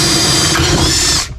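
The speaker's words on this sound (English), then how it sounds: "Hopefully we can drill a hole right here." A power drill bores a hole for a small grommet in a car during oil pressure gauge installation, one steady loud whirring run of about a second that cuts off abruptly.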